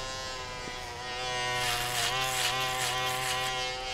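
A foil shaver buzzes steadily against hair during a barbershop low fade haircut, a close continuous electric hum with a rising, rougher texture as it presses and moves over the head.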